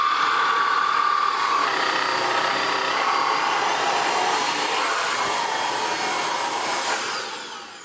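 A Beko VRT6221P vacuum cleaner fitted with a mini power head runs close and loud, a steady whining roar that stays constant and then starts to wind down near the end.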